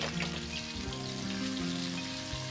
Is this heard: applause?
no